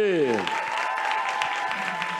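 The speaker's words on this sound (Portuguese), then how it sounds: "Quem quer aplaudir mais forte?" Church audience clapping harder on cue, a full sustained round of applause that starts right after a sliding musical tone and keeps going steadily with a faint voice and held note beneath it.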